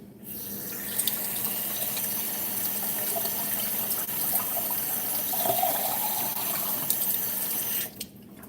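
Cold water runs steadily from a kitchen tap, a continuous close splashing stream lasting several seconds before stopping at the very end.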